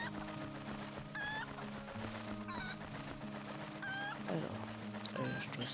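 Chicken clucking in the Zelda Twilight Princess video game, several short squawking clucks spread across the stretch over game music and background sound.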